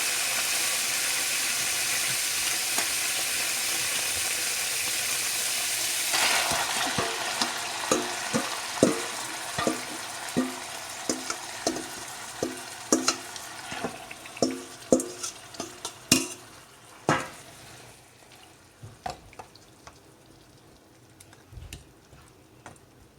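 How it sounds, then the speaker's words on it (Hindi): Mutton coated in masala fries over high heat, a steady loud sizzle with a run of sharp, irregular clicks and taps from stirring against the pan, no voices. "थोड़ी सी देर के लिए इसको तेज़ आंच पे पकने दें"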